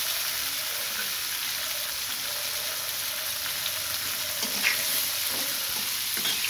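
Cut potatoes frying in mustard oil with red leafy greens in a pan, a steady close sizzle with occasional stirring scrapes throughout and no talking.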